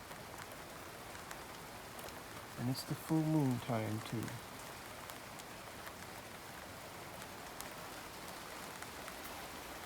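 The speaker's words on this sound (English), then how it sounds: "Gentle rain coming down." Gentle rain falls outdoors at full moon time as a soft, steady patter throughout, while a voice speaks briefly in the middle.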